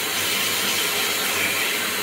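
A compact home hand dryer blows warm air in a steady, even, breathy hiss, close and uninterrupted with no voices.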